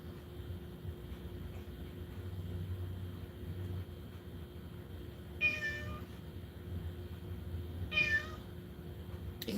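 A 12-year-old male cat meows twice, unhappy about new food, with two distinct cries spaced a few seconds apart over a low room hum.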